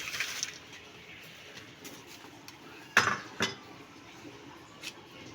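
Dishes being washed by hand at home, with scattered clinks and clatters of pots and utensils over a low running-water background, a couple of sharper knocks standing out.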